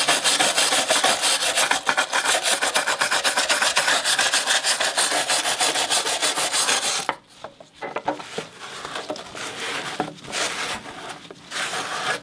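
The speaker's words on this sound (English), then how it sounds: "In scrubbing off this outer layer of rust, I think it'll expose more of the under layer of rust and then make the reaction happen even faster." A rusty metal surface is scrubbed with rapid, loud back-and-forth rasping strokes for several seconds, then the scrubbing continues in slower, fainter, more irregular bursts.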